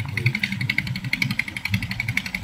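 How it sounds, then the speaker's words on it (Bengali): A motorcycle engine putters steadily nearby on a path along the Padma river at Shilaidaha, its rhythmic exhaust pulses holding a fairly constant level as it rides past. "মানুষ ওই পারে গিয়ে এখন বাইক চালায় যাচ্ছে।"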